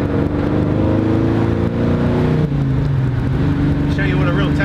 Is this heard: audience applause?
no